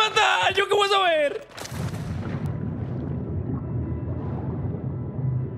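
Gunfire in the video game Warzone 3 forms a dense, rumbling barrage of shots, loud and continuous after a brief burst of excited talk at the start.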